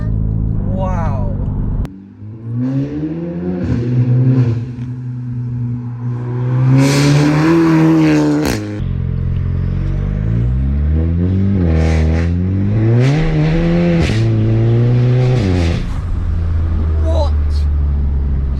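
A Volkswagen Scirocco fitted with a sports cat revs hard, its engine note climbing and dropping through repeated rising pulls, loud and close, while people talk and exclaim over it.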